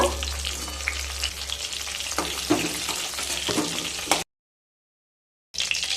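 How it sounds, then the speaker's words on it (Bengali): Pieces of pointed gourd (potol) fry in oil with a loud, dense sizzle and occasional pops and stirring clatter, close up, before the sound cuts out abruptly and then resumes. "পটলগুলোকে ভেজে নিয়ে তারপর ফিরে আসছি"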